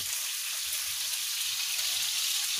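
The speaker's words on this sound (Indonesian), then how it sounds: "Ini digoreng cabenya." Chili peppers fry in a pan, with a steady, close crackling sizzle that holds evenly throughout and has no talk over it.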